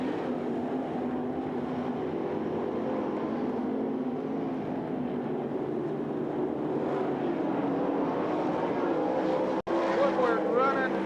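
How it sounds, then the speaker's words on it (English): Sprint-style race cars at Knoxville Raceway during the Masters Classic, a sustained roar of engines from a pack circling the dirt track, steady and moderately distant, with a faint high whine of passing cars near the end. "Brooks slowly closing in on Engelhard for the number 1 spot"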